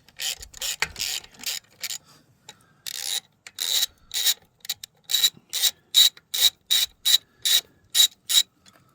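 Hand ratchet clicking in quick bursts while turning bolts during a starter motor replacement on a 2016 Arctic Cat 500 EFI, sharp close metallic ratcheting strokes repeating in a regular rhythm with short pauses.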